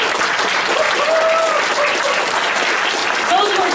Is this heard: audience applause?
yes